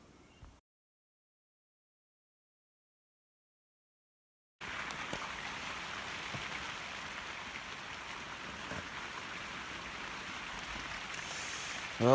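Steady rain falls on a canvas tent at an off-grid forest campsite, a continuous even hiss with no talk, starting after a short stretch of silence near the beginning.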